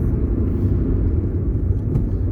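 A car's engine hums low and steady from inside the cabin as the car is driven a short distance, a continuous close rumble with no talking.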